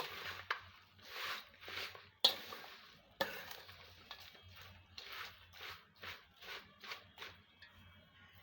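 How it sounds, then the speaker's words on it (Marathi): Green chillies with mustard seed mix are mixed by hand for a pickle, a quiet series of rhythmic squishing, rustling strokes about twice a second with a couple of sharp clicks, close and without speech. "आता मी सर्व याला हाताने मिक्स करते"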